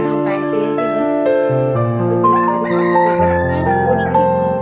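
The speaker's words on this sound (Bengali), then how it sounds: "বিশাল বড় কক মোরগ" A very large cock rooster, heard up close and loud, gives a drawn-out, wavering crow with a rich harmonic tone.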